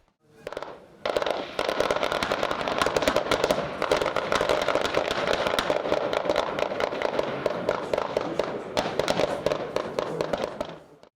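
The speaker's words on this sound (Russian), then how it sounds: "В ходе боевой стрельбы были совершенствованы навыки ведения боя из всех видов штатного вооружения" Sustained bursts of rapid gunfire crackle continuously for about ten seconds during a military live-fire exercise, dense overlapping shots from several weapons at a distance, with no talking.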